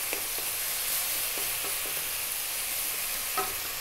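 Cardamom, cumin and coriander powder stirred with tomatoes in a pan over high heat, giving a steady close hiss of frying with soft clicks from the stirring spoon and no talking.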